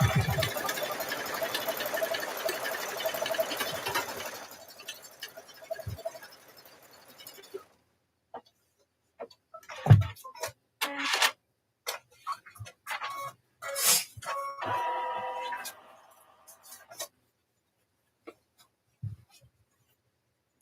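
Embroidery machine stitching on a baby bib in the hoop, a steady mechanical whir for the first few seconds, followed by scattered clicks, handling noises and quiet pauses.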